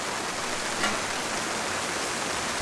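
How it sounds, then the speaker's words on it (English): Rain falling steadily on a tarp at a tent campsite, a constant soft hiss of drops with no pauses, moderately close and even throughout. "I don't mind if it rains all night."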